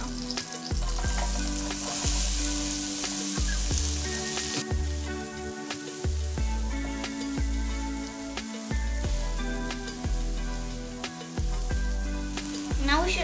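Onions frying for carrot rice, a steady close sizzle in a pan with periodic scraping strokes of a spoon repeating every second or so, no talk.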